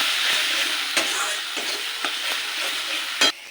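Spices with salt, turmeric and chilli powder sizzle steadily in hot oil while being stirred for a spicy Bhola fish curry, with a few sharp spoon scrapes against the pan and one louder clack near the end.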